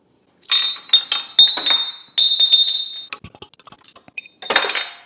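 An oxygen sensor wrench stands in for a valve spring compressor on the valve springs of a 50-year-old tractor. It gives sharp, close metallic clinks and ringing scrapes in short bursts, with quieter ticking in between.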